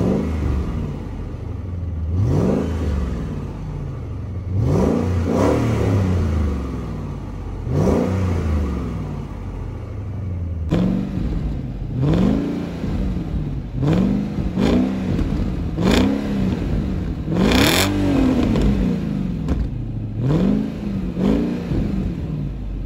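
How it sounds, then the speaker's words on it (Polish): Audi A8 D2 4.2 quattro V8 with its exhausts, revved repeatedly in a series of loud, rising and falling bursts, each climbing then dropping back to a steady idle rumble, with no talking. "chciałbym nagrać, jak bardzo przyjemny jest dźwięk tego silnika,"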